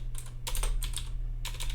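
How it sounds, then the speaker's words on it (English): Keys on a computer keyboard are tapped in short, quick bursts with brief pauses between them, close up over a steady low electrical hum. "My typing sucks right now."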